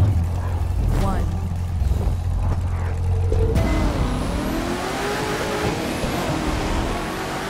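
In The Crew 2, a sleeper car launches off the line in a pinks race, its engine rising from a low rumble into a sustained rising roar, loud and close, with people talking over it.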